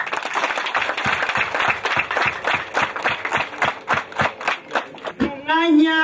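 An audience at an International Women's Day celebration in Gicumbi district, Rwanda, claps in a steady, rhythmic beat for about five seconds, fairly close and loud, before a voice begins speaking.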